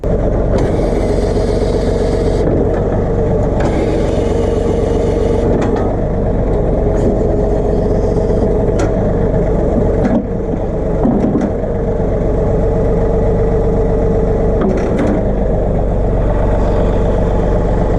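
A John Deere 3039R compact tractor with a 375A backhoe attached runs steadily, its diesel engine giving a loud, even idle drone throughout with brief mechanical clunks and slight changes in load.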